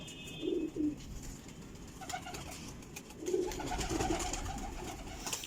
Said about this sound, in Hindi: रामपुरी कबूतर है ये भी